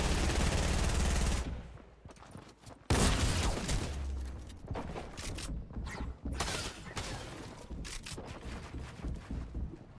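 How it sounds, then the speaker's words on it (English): Heavy assault rifle fire in Fortnite, with a loud sustained burst up front followed by a sharp blast and then a run of rapid, dense shots continuing to the end. "Gotta love the heavy AR back in Fortnite."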